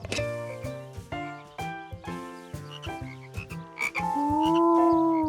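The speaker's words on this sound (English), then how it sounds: "Before long, George thought the frogs were even more fun than the tadpoles." Cartoon frogs croak in a steady series of loud, resonant calls near the listener, about a dozen evenly spaced croaks, ending in a longer sustained tonal croak, with no talking.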